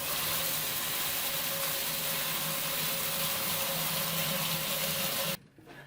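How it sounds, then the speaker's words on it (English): Hot water pours steadily into a mash tun for brewing a Mexican pilsner, a loud continuous rushing fill with a faint steady hum beneath, cutting off abruptly near the end. "start 12-gallon hot water into our mash tun"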